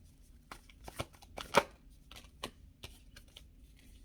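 Tarot cards shuffled and drawn by hand, giving crisp papery riffles, flicks and soft snaps in quick irregular bursts, close and fairly quiet, with no talking.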